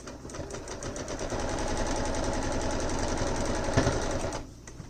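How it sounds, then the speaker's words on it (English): A domestic sewing machine stitches through a 36-by-36-inch baby quilt in a steady, rapid mechanical whir with fine rhythmic clicking, close and continuous for several seconds before stopping near the end, with no talking. "And then I'm just going to keep on sewing."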